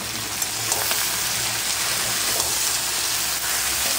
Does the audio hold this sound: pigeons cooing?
no